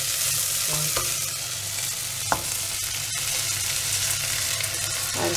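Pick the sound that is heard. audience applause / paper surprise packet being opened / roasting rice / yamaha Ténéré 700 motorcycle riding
roasting rice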